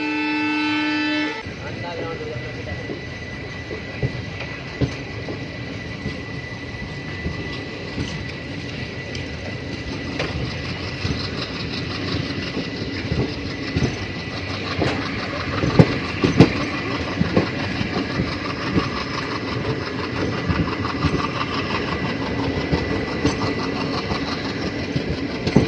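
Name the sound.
Geeta Jayanti Express train at Khajuraho route station platform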